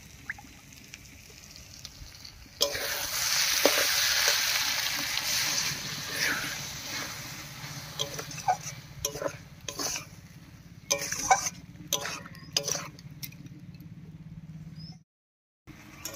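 Ground rice and spice paste frying in a wok for a cabbage ghonto, stirred with a steady close sizzle and scattered scraping clinks that fade out near the end.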